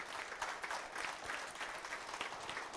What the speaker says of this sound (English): Give the Lord a hand clap this morning.